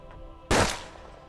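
A single sharp gunshot in the video game Hard West, one loud, abrupt blast that decays quickly against a quiet background.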